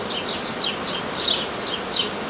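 Honey bees swarm densely at a hive, a close, continuous buzzing drone with wavering pitch as individual bees pass near.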